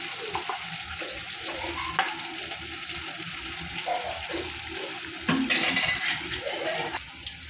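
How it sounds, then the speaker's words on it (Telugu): Red chilli paste for a year-long pickle fries and bubbles in hot oil with a steady close sizzle, punctuated by stirring and utensil clinks, swelling louder briefly partway through. "పండు మిరపకాయలు వేయంగానే ఎంత మంచి నూనె ఉడుకుతుంది చూడండి, ఇట్లా బుగ్గలు వస్తున్నాయో"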